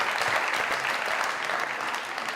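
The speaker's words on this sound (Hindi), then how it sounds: "जोरदार ताली, जोरदार।" Loud, dense audience applause greets a beauty queen's entrance, an even wash of many hands clapping close and continuous throughout.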